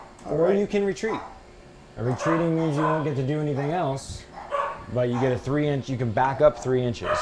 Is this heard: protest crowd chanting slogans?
no